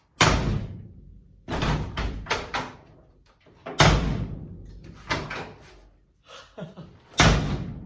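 A Chevy C10 truck door with worn, leaking seals slams shut repeatedly, loud close thuds with short gaps between them, some in quick pairs.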